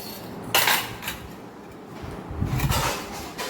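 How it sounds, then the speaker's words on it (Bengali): Plates are set down with ceramic clatter and cutlery clinks, two clear bursts of knocking and scraping against a dull room background. "প্লেটগুলো একটু নামিয়ে দিই"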